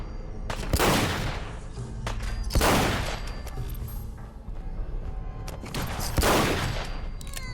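Rapid bursts of gunfire in the video game Fallout 4, three loud volleys of shots about two seconds apart with a steady rumbling bed between them, heard alone without talk.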